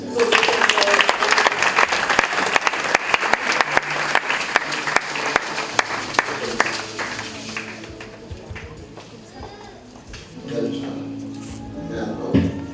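A church congregation claps loudly to acclaim the Lord, dense applause that fades out after several seconds into quieter voices and speech.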